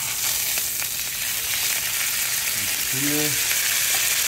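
Steak frying in a pan, a loud, continuous sizzle and crackle heard up close, while a voice speaks briefly over it.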